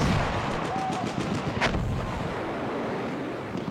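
A rocket gun fires in a video game as a rapid series of loud booming shots at the start, with one sharp blast in the middle, followed by a rumbling, windy wash of noise.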